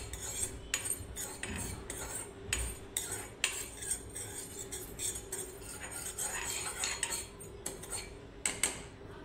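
Poppy seeds dry-roasting over a low flame in a pan while being stirred, producing repeated metal spoon scrapes and clinks against the pan in an irregular rhythm, moderately close, with no talk.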